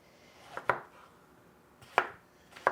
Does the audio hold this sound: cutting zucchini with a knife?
yes